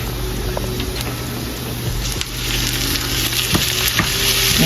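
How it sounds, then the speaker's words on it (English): Ground beef and onions sizzle loudly in a frying pan, a continuous close hiss with a few spatula scrapes and taps as the meat is broken up, without speech. "add your ground beef so your ground beef can brown off and your onions can finish sweating"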